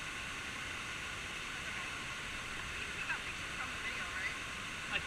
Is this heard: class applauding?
no